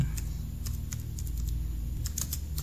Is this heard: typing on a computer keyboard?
yes